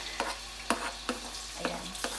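Chopped onion and garlic sizzle in hot oil while a utensil stirs them, its scrapes landing every half second or so over a steady, close frying hiss; no talking.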